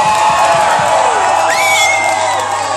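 Concert crowd in the Rock House club in Moscow, shouting, whooping and cheering loudly and continuously, with high whistles rising over the roar.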